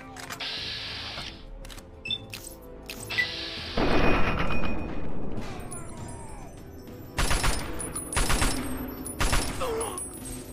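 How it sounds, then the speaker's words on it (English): In the game Fallout: Tale of Two Wastelands, a laser pistol fires in bursts of zapping shots mixed with clattering gunfire and mechanical sounds, fairly loud against a game backdrop. "Oh yeah, that laser pistol."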